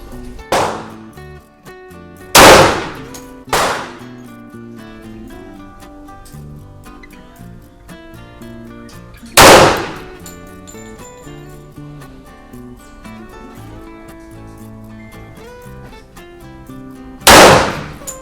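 Shots from a Wilson Combat 1911 Classic .45 ACP pistol ring out as sharp, loud cracks: a quick pair, another shot several seconds later, then a final one, with quieter ambient noise between them.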